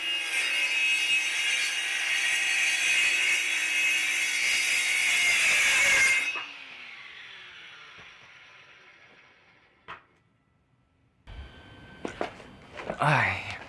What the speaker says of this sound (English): I'm gonna show you me screwing everything together real quick